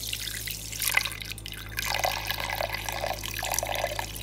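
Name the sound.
milk being poured for cold coffee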